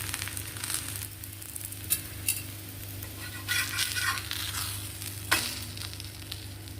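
Pearl millet adai frying in oil on a pan, a steady close sizzle with a few brief scraping clinks along the way.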